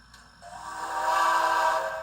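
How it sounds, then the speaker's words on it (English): A steady, sustained steam whistle tone, the recorded whistle of Norfolk and Western J Class locomotive 611 played from a model train, swells in and holds, slightly fading at the end, heard alone without voices. "This is the actual whistle off of 611. That's the sound that was recorded."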